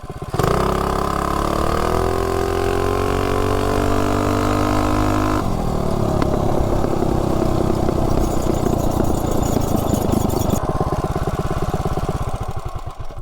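A motorcycle tuned with the Juggernaut mod launching from 0 to 30: loud engine revving up with rising pitch, a brief gear change, then sustained hard acceleration, close and continuous with no talk.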